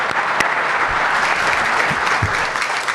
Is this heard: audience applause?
yes